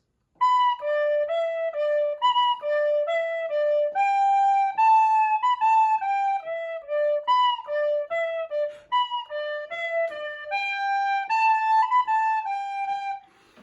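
A bright tin whistle plays a bouncy, quick Kerry polka alone, clear and close, with crisp separated notes.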